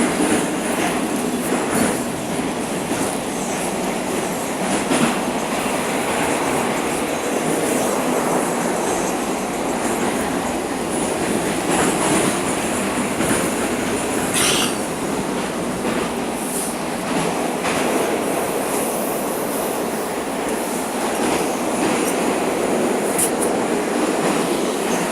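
A Moscow metro train runs between Spartak and Shchukinskaya stations with a steady, loud rolling roar, rail clatter and sharp squeals of wheels and brakes as it slows, heard from inside the car for a long stretch.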